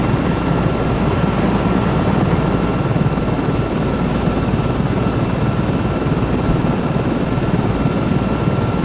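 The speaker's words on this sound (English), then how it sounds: "Man, that's a lot of helicopter for putts like me to be flying." Helicopter used for heli logging, its rotor and turbine roaring steadily and loudly at close range with a fast rhythmic blade chop throughout, no talking.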